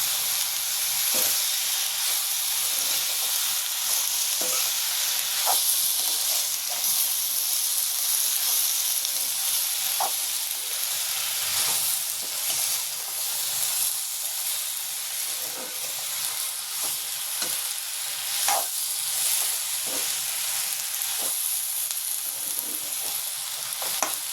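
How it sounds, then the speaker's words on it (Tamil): Mutton curry ingredients sautéing with salt in a home kitchen pan, a loud steady sizzle and hiss with occasional scraping stirs, close and continuous with no speech. "இப்போ வந்து கொஞ்சம் உப்பு சேர்க்க போகிறோம் வதங்கிறதுக்காக."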